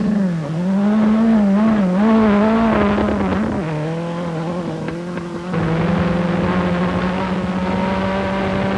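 A Renault 5 Turbo rally car on a forest stage at the 1989 Ashley Forest Rally, its engine close and loud in a sustained drone that rises and falls in pitch through gear changes.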